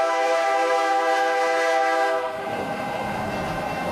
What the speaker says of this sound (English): the train, that's basically what it would sound like if it was passing by